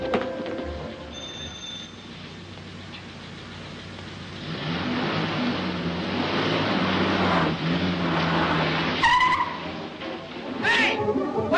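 A car in a 1946 film pulls away, its engine noise swelling after a quiet stretch, then two sharp tire squeals ring out near the end.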